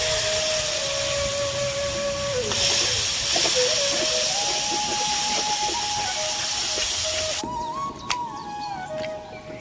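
Water poured into a hot pan for a Bengali fish curry sends up a loud, sustained steam hiss, close and continuous, with a brief drop and shift near the end.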